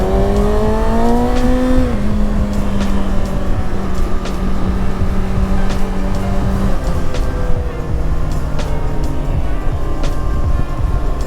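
Engine of a 2021 Kawasaki Ninja ZX-6R 600cc sportbike while riding: a loud, close, continuous drone whose pitch sags after about two seconds and then holds steady, as throttle is eased on a twitchy response.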